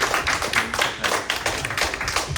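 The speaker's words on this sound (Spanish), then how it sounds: "Damos un fuerte aplauso" A short burst of applause from a church congregation, with quick uneven claps rising and falling, fairly close.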